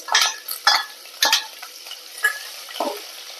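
Green chillies and mustard seeds fry in a hot pan for a pappadam curry, crackling and spitting in short bursts while a utensil stirs and scrapes, loud and close with no talking.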